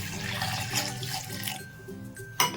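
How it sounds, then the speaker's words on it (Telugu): A glass of water streams and splashes into a mixer jar holding coconut for a couple of seconds, close by, ending with a brief clatter. "ఇందులోకి ఒక గ్లాస్ నీళ్ళు అయితే వేసుకోవాలండి"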